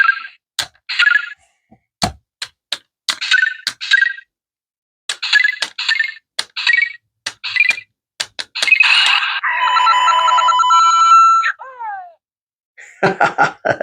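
Electronic sound effects from the Lego Bowser Muscle Car set 71431: a run of chirpy, jingly bleeps and short fanfares with sharp clicks between them, then a longer warbling sweep and more bursts, with no voices.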